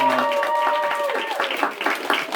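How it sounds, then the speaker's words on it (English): A crowd at an evening social event at a bar claps for the bar staff, a short burst of loud, dense applause with voices calling out through it. "Please give them a warm round of applause."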